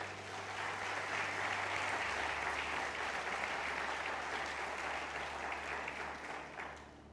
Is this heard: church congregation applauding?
yes